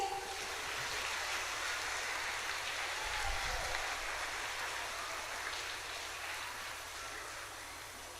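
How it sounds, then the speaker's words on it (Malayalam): A crowd at a catechism inauguration at Kakkanad Assisi Church applauds a children's skit with steady, sustained clapping that fills the whole stretch and fades slightly toward the end. "എന്നാ നല്ലൊരു കയ്യടി കൊടുത്തേ"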